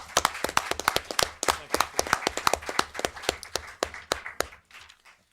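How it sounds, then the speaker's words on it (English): A small group claps at a county Board of Supervisors meeting, a modest run of distinct, fairly quiet hand claps with an uneven rhythm that tapers off after about four and a half seconds. "A little applause for that."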